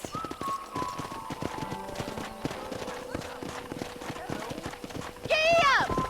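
Horse hooves clip-clopping in rapid galloping rhythm in the Red Dead Redemption video game, steady under a moderate in-game mix, with a horse whinny near the end.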